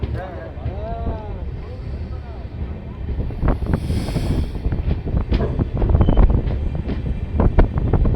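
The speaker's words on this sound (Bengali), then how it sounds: "বুনিয়াদপুর স্টেশন ছেড়ে ট্রেন বেরিয়ে যাচ্ছে" A train, the 13162 Tebhaga Express with new LHB coaches, pulls out of Buniadpur station, its rumble and rolling clatter building steadily under wind buffeting on the microphone, with brief squeals near the start.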